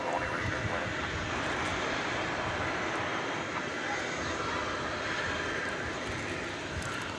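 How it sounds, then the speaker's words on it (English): A Boeing 737-800 airliner comes in to land at DFW airport at night, a steady broad engine roar held at a constant level throughout, distant and even, with no clear voices. "It's a 737-800."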